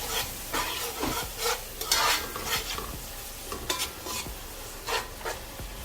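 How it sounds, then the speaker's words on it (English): Onion, garlic and hot pepper sauté in a pot with a steady background sizzle, broken by repeated scraping stirs and light clinks of a utensil against the pot, close and with no talking. "you're going to allow this to saute for 2 minutes"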